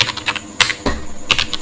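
Typing on a computer keyboard: a few sharp, irregular key clicks and taps, close and clear, with no voices.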